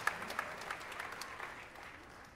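A school auditorium audience at a 5th and 6th grade spring band concert claps for the band director, a loud burst of applause at the start that gradually thins and fades out.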